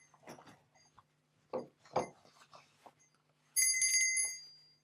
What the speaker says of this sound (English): Ring the bell to bring the story into the room.